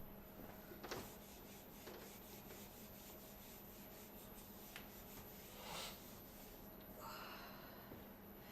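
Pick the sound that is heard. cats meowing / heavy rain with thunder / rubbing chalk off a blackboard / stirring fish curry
rubbing chalk off a blackboard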